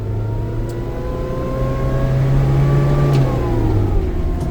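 A Nissan Atlas 150 diesel truck pulls away from a stop in second gear, its engine droning loudly and steadily as the pitch slowly rises, heard from inside the cab.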